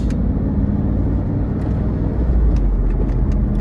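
Interior drone of an LT1 Trans Am with a T56 manual gearbox on a test drive, a steady loud low engine and road rumble throughout with no talk.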